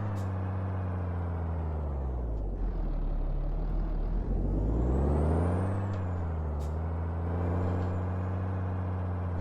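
A Kenworth truck in the Euro Truck Simulator 2 video game drones steadily with a deep, harmonic engine tone that rises and falls as it shifts and accelerates, close and continuous, with an air-brake hiss partway through.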